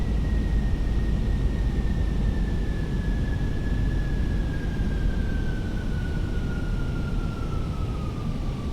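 An airliner in Microsoft Flight Simulator 2020 banks into a sharp turn, heard as a loud, constant engine roar with a thin whining tone that slowly falls in pitch, with no speech.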